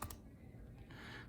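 Typing on a computer keyboard, a short quiet burst of a few soft key clicks close by, with no voices.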